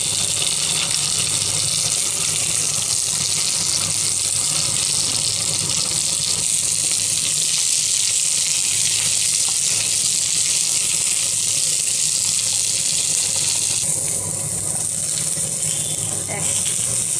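Okra dropped into hot ghee in a frying pan sizzles in a loud, dense, unbroken hiss that fills the whole stretch, close to the ear and steady from start to finish.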